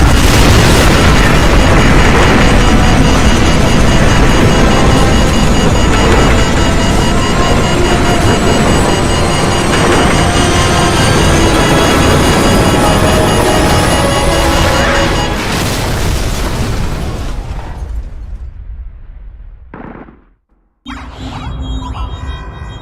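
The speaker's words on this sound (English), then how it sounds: "What appears to be an explosion of epic proportions." A nuclear explosion in the city in Call of Duty 4: Modern Warfare on Xbox 360 roars as a massive, sustained blast and rumble, very loud and dense for about fifteen seconds before fading and cutting out abruptly.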